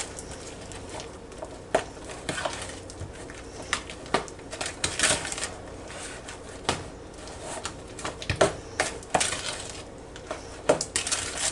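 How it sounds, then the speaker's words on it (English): A spoon stirs strawberry angel food cake batter in a large bowl, making light irregular clinks and taps against the side, fairly quiet and close, with no voices. "And just stir this together because you really do need the big one."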